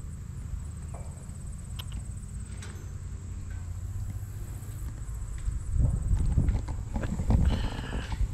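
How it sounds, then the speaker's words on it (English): A small pony walks close by outdoors on a rural property, its hooves giving faint clip-clopping steps over steady background noise that grows louder near the end. "Look, a pony, a little pony, look at you"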